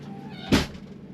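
A cat inside a parked DIY Earthroamer camper in Valle de Guadalupe, Mexico, gives a single short meow that stands out against quiet background hum.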